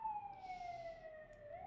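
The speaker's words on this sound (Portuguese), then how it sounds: "Perdão o barulho" Ambulance siren beside a hospital, a steady wailing tone sliding slowly downward throughout, faint and at a distance with low traffic rumble beneath.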